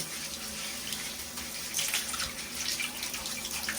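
Cool tap water runs steadily over a carbon filter being rinsed in a sink, a continuous close hiss and splash with slight surges, no talk.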